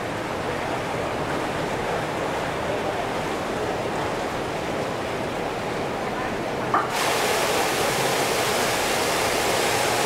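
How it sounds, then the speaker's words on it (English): Water pours steadily into a heated mineral-water hydrotherapy pool aboard a cruise ship, a continuous close, loud rushing hiss that grows brighter and fuller near the end. "the hydrotherapy pool we do have in here, this one is a mineralized water"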